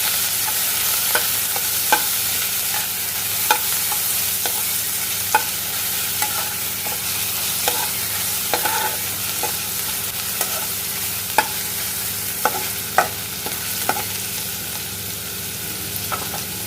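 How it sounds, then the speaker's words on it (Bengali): Grated onion paste fries in hot oil over a low gas flame, giving a steady, close sizzle broken by regular clinks and scrapes of stirring. "ফার্স্ট অফ অল আমরা তেল গরম হলেই পেঁয়াজ বাটাটা দেব, গ্রেটেড অনিয়ন্সটা।"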